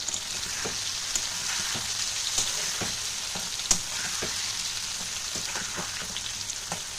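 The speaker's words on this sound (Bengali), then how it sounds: "তো দেখো সবজিটাও বেশ ভাজা হয়েছে" Pui greens sizzle and fry with a hilsa fish head in a pan, a steady close crackling hiss broken by scattered sharp pops and stirring clicks, no voices.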